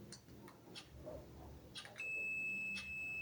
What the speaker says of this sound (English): let's make a continuity test with this multimeter